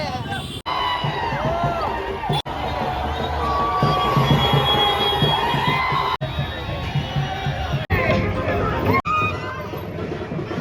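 A crowded street in Pune, with a dense hubbub of many voices, shouting and traffic, loud and continuous for the whole stretch apart from a few brief cuts.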